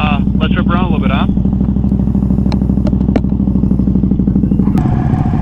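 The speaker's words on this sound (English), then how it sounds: "Can you hear my bike?" A motorcycle engine rumbles steadily and loudly while being ridden, with a person talking over the constant drone and wind.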